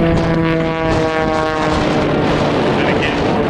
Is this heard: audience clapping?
no